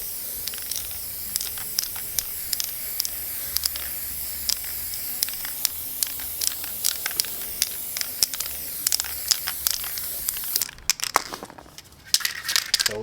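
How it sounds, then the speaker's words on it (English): Repeated short bursts of an aerosol spray paint can hissing in quick rhythmic pulses, with a rattling, denser stretch of spraying toward the end; close and clear, no talk. "So with the spray paint and that,"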